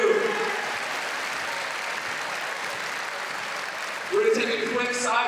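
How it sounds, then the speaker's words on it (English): A packed high-school gym claps at a pep assembly in one sustained, dense burst of applause that swells near the end. An announcer's voice sounds at the start and again over the closing seconds. "Please have a big round of applause."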